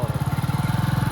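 A motorcycle engine idles close by with a fast, even low thump, steady and fairly loud throughout a short stretch.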